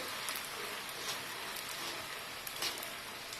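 Rava chips frying in hot oil, a soft continuous fizzing hiss like light rain, fairly faint and even with a few slightly louder crackles.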